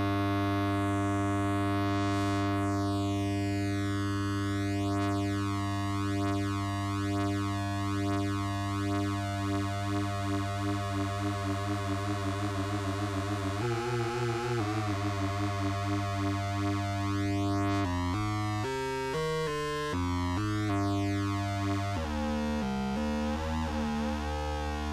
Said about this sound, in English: So that's the chorus.